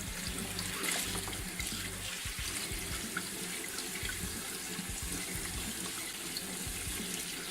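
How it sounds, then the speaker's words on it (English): Quinoa rinsed in a jar under a cold running kitchen tap, with a steady, continuous rush and splash of water throughout and no talking. "I rinse out the jar several times to get all of the quinoa out before rinsing it under the cold tap"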